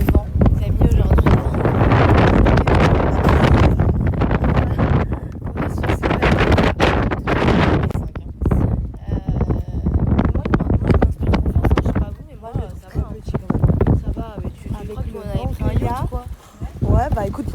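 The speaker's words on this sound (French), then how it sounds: "il y a beaucoup de vent" Strong wind buffets the microphone outdoors in loud, continuous gusts, with rumbling bursts that ease briefly mid-way before picking up again, while people talk underneath.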